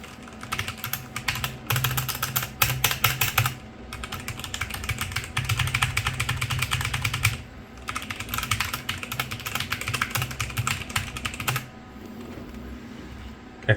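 Typing on a Logitech G512 Special Edition mechanical keyboard, a fast, steady clatter of keystrokes in several bursts with brief pauses, close and fairly loud with no voices.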